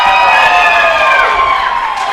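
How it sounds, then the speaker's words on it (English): A wrestling crowd at an Anarchy event roars for Kevin Blue, loud sustained cheering and whooping filling the room throughout without any break. "The crowd is on fire here for Kevin Blue this week."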